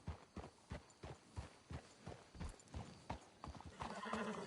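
Horse hooves clip-clop in a steady walking rhythm in Red Dead Redemption 2, close and clear, with a brief whinny and other game noise rising at the end.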